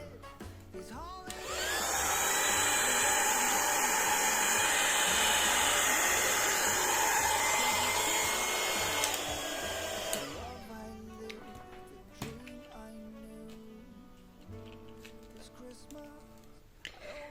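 A heat tool blows loudly and steadily for about eight seconds, melting Tinsel Snowflake embossing powder on a greeting card, then shuts off, leaving quiet handling clicks and taps.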